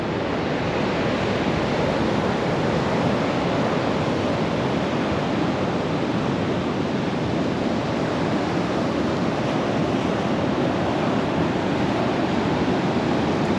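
Ocean waves breaking on a wild beach in northern Portugal, a continuous loud roaring wash of surf, even and unbroken throughout with no talking.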